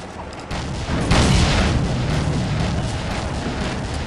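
Grenade detonating in the shooter game Soldier of Fortune, a loud close boom swelling after a brief lead-in and then a long rumbling tail of debris and echo, no voices over it.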